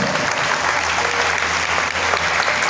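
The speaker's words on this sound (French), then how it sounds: "Est-ce que tu peux acclamer le Seigneur? Acclame bien le Seigneur." A congregation at a French-language faith seminar breaks into loud, sustained applause. Dense clapping fills the room evenly from start to finish.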